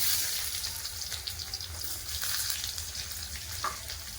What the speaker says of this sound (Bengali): পেঁয়াজটাকে ভালো করে লাল করে